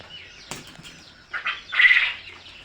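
Quail kept for egg laying flap their wings in a quick flurry near the end, preceded by a brief rustle and thump, with no talking.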